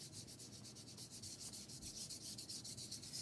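Chalk is blended into a painting by hand in soft, quick, rhythmic rubbing strokes, faint and close, continuing steadily without any voices.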